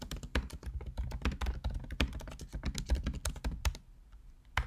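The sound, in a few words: typing a commit message on a computer keyboard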